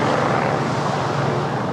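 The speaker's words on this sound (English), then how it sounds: "We've got the helicopter circling." A helicopter circles overhead above Bondi Beach, its engine and rotor forming a steady, loud, broadband roar that holds evenly throughout with no voices.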